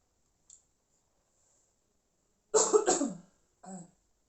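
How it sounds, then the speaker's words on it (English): A person eating spicy noodles coughs: a faint click first, then a close burst of two or three harsh coughs and one shorter cough after a pause, in a quiet room. "I'm not coughing because it's spicy."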